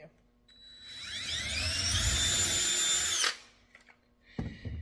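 A power drill whirs up and runs steadily for a couple of seconds sinking a screw slightly into wood, then stops abruptly, followed by a brief clatter.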